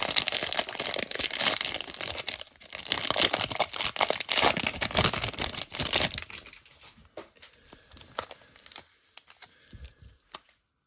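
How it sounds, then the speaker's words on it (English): A 2019 Bowman baseball card pack torn open by hand, with close crinkly foil crackling and rustling that runs steadily for several seconds, then thins out into softer, scattered handling noises. "let's go ahead and rip this 2019 Bowman."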